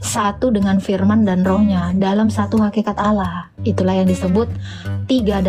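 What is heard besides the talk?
No everyday noise stands out behind the speech.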